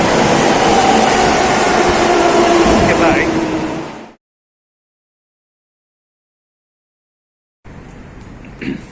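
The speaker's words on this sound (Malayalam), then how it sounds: "ട്രെയിൻ വരുന്നുണ്ട്." A loud train in Japan rumbles and clatters close by for several seconds, then cuts out; after a gap, quieter platform ambience returns.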